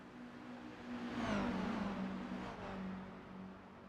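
Toyota GR86 race cars battling on track at Autodromo Hermanos Rodriguez, engines droning and rising in pitch as cars pass fairly faintly, a brief swell then fading.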